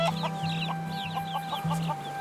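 Feral domesticated chickens on Kauai clucking close by in short repeated bursts, several birds overlapping over a low steady hum.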